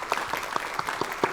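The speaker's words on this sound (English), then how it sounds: "I want to just offer them a round of applause for their" A small gathering claps briefly for young junior curators at a glass-themed table talk, a light scattered patter of a few hands with distinct claps close by.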